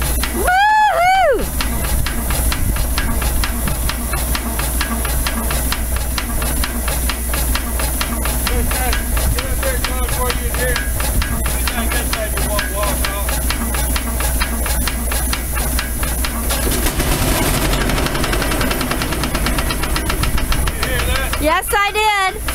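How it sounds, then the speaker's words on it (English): Frick portable steam power unit running, a loud continuous steam hiss and mechanical chuffing held steady for a long stretch, with voices over it at the start and end. "this is a Frick portable power unit"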